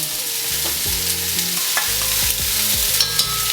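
Loud, steady sizzling of frozen peas in a hot pan, a bright frying hiss that runs throughout, with occasional scrapes and stirring clatter.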